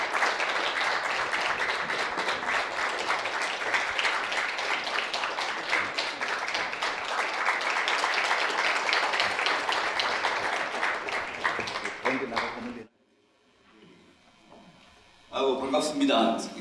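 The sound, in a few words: audience applause welcoming a speaker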